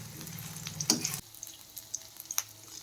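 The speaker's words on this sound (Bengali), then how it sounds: "দিয়ে ভালো করে এগুলো একটু ভেজে নিই।" Garlic and onion frying in a pan for a curry, a burst of sizzling and stirring that cuts off abruptly, followed by quieter sizzle and a few clinks of the utensil.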